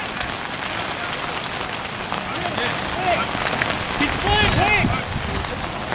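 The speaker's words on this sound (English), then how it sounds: "it's a wet disc, folks. It's still raining." Steady rain patters on surfaces outdoors during an ultimate frisbee practice, with a voice talking over it and the hiss swelling slightly toward the end.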